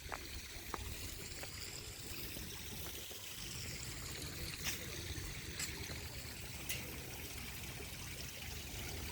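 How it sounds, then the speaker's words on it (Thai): Clear water tumbling down a small waterfall at a temple site in Laos makes a steady, close rushing and splashing wash with no pauses. "แต่ตอนนี้ก็มีน้ำตกแล้วเนาะ มีน้ำตกที่แบบใสเลยเนาะ"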